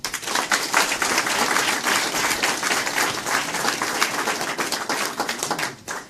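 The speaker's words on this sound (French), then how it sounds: "et ça aussi, ça mérite, me semble-t-il, un certain nombre d'applaudissements" Audience applause for the young people at the inauguration of the E2C77 second-chance school site in Montereau: dense, sustained clapping from a crowd, steady and fairly loud throughout, easing slightly at the very end.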